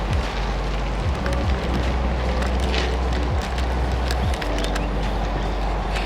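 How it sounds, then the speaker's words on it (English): Steady wind rushes and buffets the microphone throughout, a constant roaring noise with low thumps and no voices. "It's just a nice day. It's just windy."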